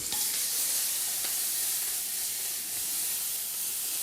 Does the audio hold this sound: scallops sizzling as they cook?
yes